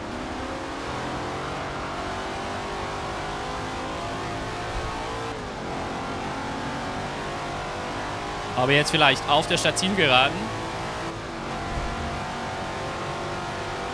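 A Shelby Cobra with a 7.0-litre V8 roars steadily through a Forza Motorsport 7 race, a constant engine drone with a brief sharper squeal burst midway, while someone talks over it.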